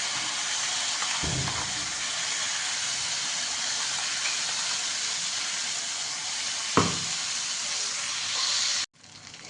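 Nigella seeds and spice paste sizzle steadily in hot oil, a loud continuous frying hiss with a couple of sharper bursts as ingredients are added, then a brief cut near the end.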